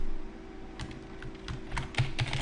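Typing on a computer keyboard, a series of soft, irregular key clicks that grow denser toward the end, close and fairly quiet over a faint steady room hum, with no voices.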